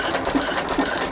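A vintage Sattley stationary engine runs close by, its exhaust rocker arm and mixer fuel pump making a steady mechanical clatter with a rhythmic knock about twice a second.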